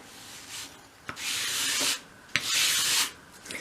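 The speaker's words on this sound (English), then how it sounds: "I'm just sanding along the cut edge there" Two steady strokes of sandpaper rasping back and forth along the cut wooden edge of a dolls house piece, close by, with short pauses between passes.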